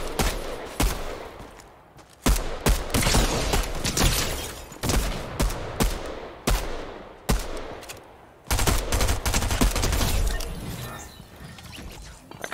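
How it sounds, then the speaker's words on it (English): Pistol fire in Fortnite crackles in quick, sharp bursts, loud, close shots repeating in clusters with short pauses between volleys. "I kinda like this pistol"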